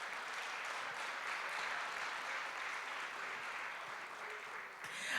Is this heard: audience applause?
yes